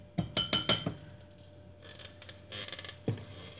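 A spoon clinks against a bowl while stirring red-tinted pancake batter, a quick burst of several light knocks and scrapes followed by softer, scattered stirring sounds.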